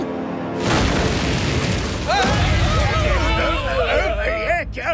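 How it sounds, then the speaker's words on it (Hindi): Loud, dangerous fireworks go off in a cartoon setting, a deep boom followed by crackling bursts and whistling streaks, with voices mixed in. "किसी सरफिरे का दिमाग फिर गया जो ऐसी खतरनाक आतिशबाजी कर रहा है।"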